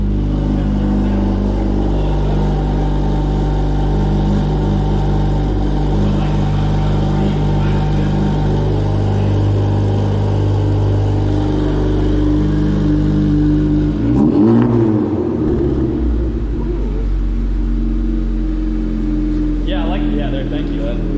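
A Honda Civic Type R FL5 with an AWE exhaust idles and revs with the parking brake on at a Type R meet, a steady rumble swelling into a short rev, with people talking over it throughout.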